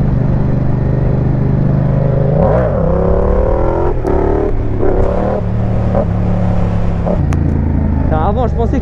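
A Yamaha Tracer MT-07 motorcycle accelerates through a wheelie, its engine close and loud, revving up and easing back in several rising surges over a steady rumble.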